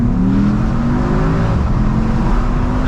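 A Mercedes E63 S 4Matic AMG engine accelerates hard, its steady loud drone rising in pitch as the revs climb, heard from inside the car with no talking.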